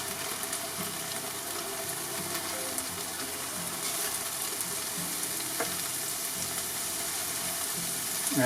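Onions frying on a Lidl mini kamado grill, a steady, close hiss of sizzling across the whole stretch, with faint occasional stirring scrapes and no talk.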